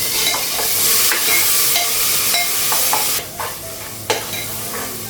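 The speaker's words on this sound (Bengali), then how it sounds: "মশলাগুলো ভাজা হয়ে গেছে" Spices with paste, salt, cumin powder and sugar sizzle in a pan as a utensil stirs them, a dense close hiss broken by repeated scraping strokes, no voices.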